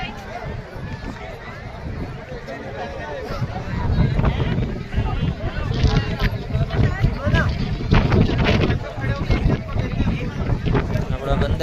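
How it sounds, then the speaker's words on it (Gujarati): Strong wind gusting across an open mountain viewpoint near a helicopter landing area on the Vaishno Devi pilgrimage route, a continuous rushing buffet on the microphone that swells louder midway, with people talking underneath. "હવા ચાલે છે."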